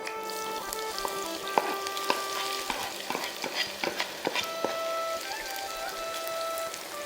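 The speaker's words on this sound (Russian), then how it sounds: "Лук жарим до красного цвета" Onions fry in hot oil in a pan, giving a soft, continuous sizzle broken by scattered crackles, pops and the scrape of stirring, heard alone without voices.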